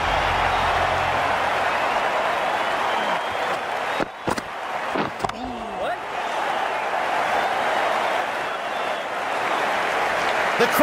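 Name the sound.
crowd applauding in Cricket 19 video game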